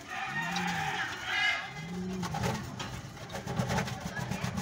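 A sports pigeon coos in soft, low, rounded calls, two or three distinct phrases close by, with light background noise and movement.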